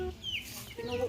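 Domestic chickens clucking nearby, a few short calls over a soft outdoor background, with a voice speaking faintly.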